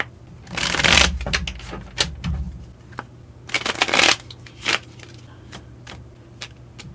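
Tarot cards are shuffled by hand in several quick riffling bursts, close and crisp, separated by soft taps and pauses during a card reading.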